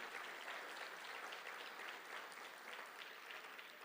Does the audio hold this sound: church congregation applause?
yes